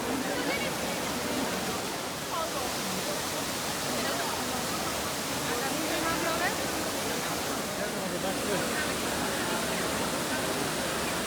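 Broad, steady rush of fountain water at the Trevi Fountain in Rome, a constant near wash of falling water filling the whole scene without a break, with faint crowd murmur underneath.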